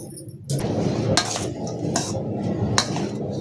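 A spoon stirs lemon rice (chitranna) in a metal pot, giving repeated scraping and clinking strokes close by, with a few sharper clinks against the pot rim.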